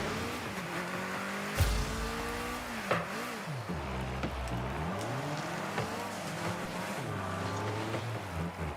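Engines of cars in a car soccer video game whine and rise and fall in pitch as the vehicles accelerate and swerve, with a few sharp impact thumps, loud and continuous.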